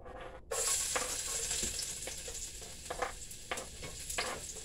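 Garlic, onion and pepper seasoning sizzling and crackling steadily in hot oil, close and fairly loud, with stirring scrapes popping through for a steamy fish head and okra coconut curry.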